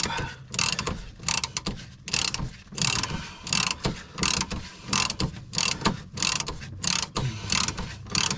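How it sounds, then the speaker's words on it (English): A ratchet tightening the track rod end on a Vauxhall Omega Elite's near side, clicking in fast repeated bursts between pauses, close up and loud with no talking. "squeeze it on the end of where the ball joint goes and tighten up"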